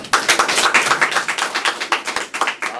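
A small audience applauds for a few seconds, a dense run of close, quick hand claps at steady loudness with no speech over it.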